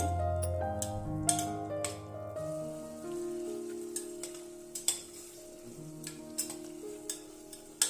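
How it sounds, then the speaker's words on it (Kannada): Mint and coriander paste for chicken biryani fries in a pan with a steady soft sizzle, broken by sharp clicks and scrapes of stirring, all under quiet background music. "ಇದರಲ್ಲಿ ಸ್ವಲ್ಪ ಹಸಿಯ ವಾಸನೆ ಹೋಗೋವರೆಗೂ ಒಂದೆರಡು ನಿಮಿಷ ಚೆನ್ನಾಗಿ ಫ್ರೈ ಮಾಡ್ಕೊಳ್ಳಿ"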